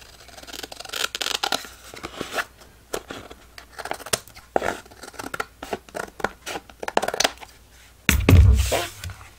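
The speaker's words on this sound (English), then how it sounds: "I'm just going to use my scissor and cut away all the excess all around." Scissors snip away excess paper around a small handmade matchbook notebook, a close run of crisp cuts and papery crinkles in irregular bursts, ending in a louder rustling handling of the paper.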